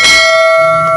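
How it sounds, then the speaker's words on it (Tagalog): A single bright, ringing chime of a notification bell sound effect, struck loudly once and left to sustain and fade on its own. "Huwag mo kalimutan i-hit yung notification bell."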